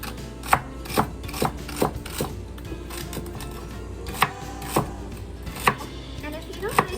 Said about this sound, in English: So this recipe calls for just 3 stalks, so I'm just going to use that. I'm just going to chop it up.